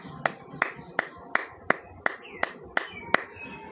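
A few people clapping in rhythm at a Spanish-language religious talk, about ten sharp, evenly spaced claps at close range with a faint voice underneath.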